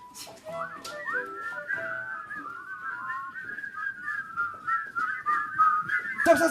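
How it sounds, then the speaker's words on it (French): Several people whistle their anthem slowly together in unison, a sustained tune that grows slightly louder toward the end, with faint background noise. "On siffle notre hymne."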